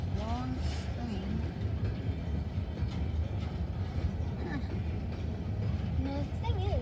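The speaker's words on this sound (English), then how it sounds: "Just a long hopper train, hop cars, long train." A long coal hopper train rolls past nearby in Riverview, Florida, a steady heavy rumble with rhythmic rattling of cars, while a voice speaks briefly over it.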